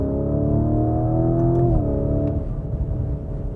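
Lamborghini Urus V8 hybrid in sport mode accelerating hard along a motorway on a sunny day, engine note climbing steadily and loudly, then a brief dip as it shifts and keeps pulling with a rougher, throaty roar; no talking.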